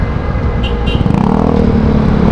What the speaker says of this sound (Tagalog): Mabigat yung traffic dito